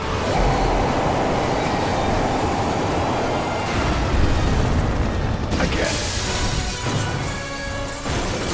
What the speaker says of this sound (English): And here comes the train, yeah?